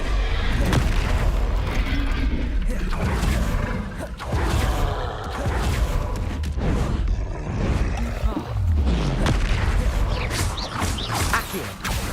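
Repeated Confringo fire-spell explosions boom through combat in Hogwarts Legacy, dense with heavy thuds, crashes and creaks amid constant battle noise, with game voices mixed in.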